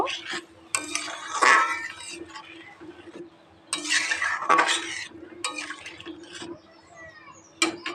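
Curry for an egg and taro dish being stirred in a pot after water is added, with bursts of utensil scraping and clinking against the pot separated by quieter gaps, close and fairly loud.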